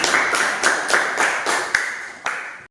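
A classroom of students claps together in a rhythmic pattern, about eight even, bright claps in unison spaced roughly a third of a second apart, close and fairly loud, ending with a final pair.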